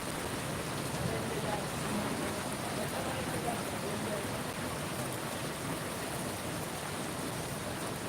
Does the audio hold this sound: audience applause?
no